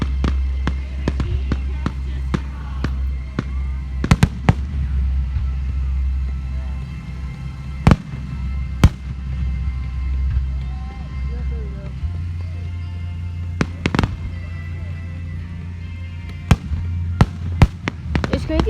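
A fireworks show bursts overhead in repeated booms and sharp cracks, some louder and closer, over a low rumbling background with a steady engine-like hum and occasional voices nearby.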